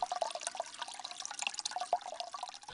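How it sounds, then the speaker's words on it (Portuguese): Clean spring water trickles between stones in a preserved forest, a steady close-up babble with small drips and splashes running throughout. "é água limpa que brota entre as pedras e quebra o silêncio na mata preservada"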